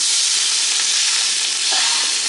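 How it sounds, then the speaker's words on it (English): An omelet frying in a pan, handled with two spatulas, a loud, close, continuous hissing sizzle with a brief scrape near the end, no talking. "our omelet is pretty much done cooking"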